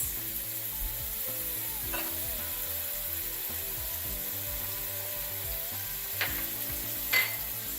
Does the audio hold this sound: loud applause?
no